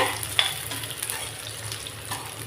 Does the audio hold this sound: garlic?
yes